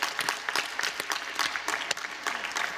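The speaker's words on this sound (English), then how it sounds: "Give her a round of applause." An audience at a plenary session breaks into applause for an entrepreneur from Pakistan, dense sustained clapping from a crowd close by, with no one speaking over it.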